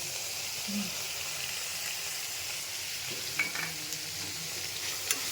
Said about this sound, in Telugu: ఒకసారి కలుపుకుందామండి. ఇప్పుడు కొద్దిగా ఉప్పు, పసుపు, ధనియాల పొడి అండి.